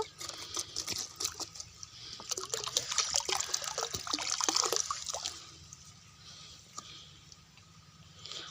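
Liquid organic medicine is poured around a young areca plant, a splashing, trickling stream that swells in the middle and then tapers to occasional drips, close by with no talking.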